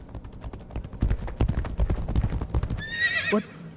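A horse in the Legacy of Kain: Ascendance video game gallops with rapid, loud hoofbeats clattering in a quick rhythm, then lets out a high, shrill neigh that rises and trails off near the end.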